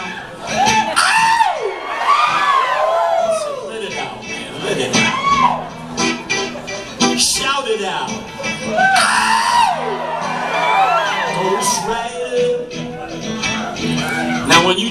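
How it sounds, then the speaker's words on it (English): A jazz club audience at a Garland Jeffreys show in Minneapolis, with loud, overlapping screams, whoops and yells rising and falling in repeated bursts, close and energetic, mixed with crowd chatter. "I expect those screams to persist."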